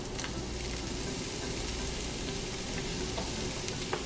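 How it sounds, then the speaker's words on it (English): Blended seasonings sauteing in unsalted butter for herb rice, a steady close sizzle and frying crackle with occasional stirring clicks, no talking. "And we're going to mix that in and saute for about 2 minutes."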